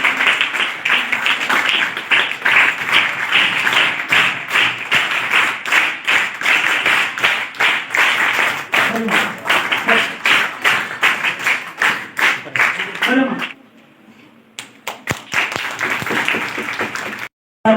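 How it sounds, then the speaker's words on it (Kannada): An audience at an International Youth Day event bursts into loud, sustained clapping that fills the room for about thirteen seconds, then drops to a brief lull before scattered claps pick up again. "ಎಲ್ಲರೂ ಜೋರಾದ ಚಪ್ಪಾಳೆಯ ಮೂಲಕ ಕಾರ್ಯಕ್ರಮಕ್ಕೆ ಚಾಲನೆಯನ್ನು ನೀಡೋಣ"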